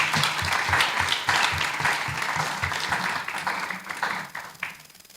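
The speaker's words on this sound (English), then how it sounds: "I think this is a great time for a round of applause for our candidates and our guests." Audience at a League of Women Voters primary candidate forum in Salina applauds candidates and guests, a steady wash of many hands clapping for about five seconds before tapering off near the end.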